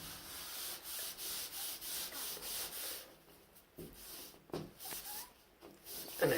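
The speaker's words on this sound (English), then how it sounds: "And I scrub the dickens out of it." A thumb pressed hard rubs and scrubs shower glass in quick rhythmic strokes for about three seconds. Softer scattered squeaks and rubs follow, close and with no talking.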